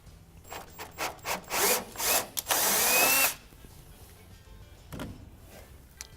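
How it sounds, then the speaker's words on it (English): Rhythmic scraping and grinding strokes of a tap cutting a 5/16 thread into a metal hole, several short bursts building to a longer rasp, then quiet with a faint knock. "I'm just going to tap that hole to a 5/16 thread"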